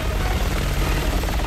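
A helicopter hovers overhead in the video game Resident Evil 6, a dense, steady rotor and engine roar, loud and unbroken throughout.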